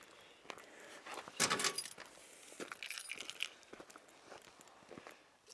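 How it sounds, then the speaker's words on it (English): Car keys jangle and clink in short bursts as a bunch is picked up and handled close to the microphone, with a louder rattle early on and lighter jingles following. "I'll grab my keys just to show you."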